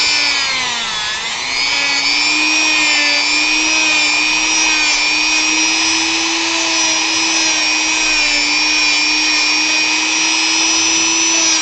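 A power drum sander whines steadily and loudly close up as it carves the rear leg of a wooden Final Fantasy V model, its pitch dipping briefly near the start and then holding constant.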